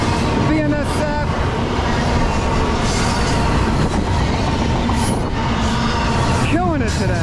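A BNSF freight train rolls past nearby, with loud, continuous rumbling and rhythmic wheel clatter. Brief squeals break through now and then, and a voice speaks over the passing cars.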